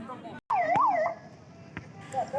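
An ambulance siren wails at a crowded Shiv Puran religious gathering in Mandsaur, its rising and falling tone moderately loud over a constant murmur of crowd noise.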